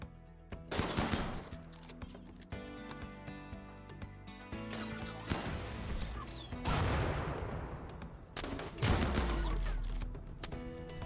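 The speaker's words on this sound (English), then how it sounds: "The house is getting mortared" Mortar shells slamming into a house in RimWorld, several heavy explosive crashes and booms spaced across the stretch amid lingering rumble and clatter, loud and close, with no voices.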